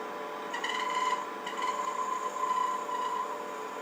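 A tool slices wood spinning on a lathe: a faint, steady whirring hum with soft scraping cuts that come in short bursts and then ease off.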